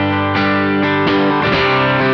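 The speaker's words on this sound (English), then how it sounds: "Now we'll check out what happens when we turn up the gain." Electric guitar with the amp gain turned up from a clean setting of 3 out of 10, several chords struck in quick succession with a thicker, gritty, sustained tone.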